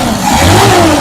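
A nearby Potohar jeep engine revs loudly, its rumbling note rising briefly in a short burst of throttle.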